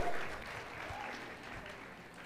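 Audience applause for a brave volunteer at a live talk, a soft, steady wash of clapping from a crowd at some distance, fairly quiet and even throughout.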